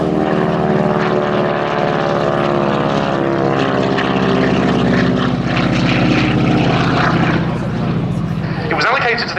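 A North American AT-6C Harvard IIA propeller trainer flies past at an air day, its radial engine droning loud and steady with a rasping buzz, while a commentator talks over it.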